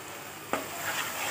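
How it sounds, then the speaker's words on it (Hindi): Coriander, red chili and turmeric powders roasting in a pan, a steady faint sizzle with a single quick spoon scrape. "अब इसको भी हम अच्छे से 5 मिनट तक भून लेते हैं।"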